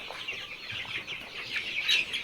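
Chicks about a month old, including desi and tiger breeds, cluck and chirp nearby in a flock, a busy overlapping chatter of short calls with no voices.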